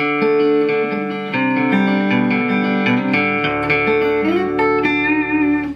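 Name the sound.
acoustic-electric guitar through modelling valve amp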